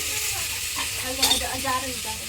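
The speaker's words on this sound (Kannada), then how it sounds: "ನಾನು ಈರುಳ್ಳಿ ಹಾಕ್ತೀನಿ. ಸೊ ಇದು ಸ್ವಲ್ಪ ಫ್ರೈ ಆಗಲಿ." Onions sizzle and crackle in a hot pan, a steady frying hiss with a few stirring scrapes, close by.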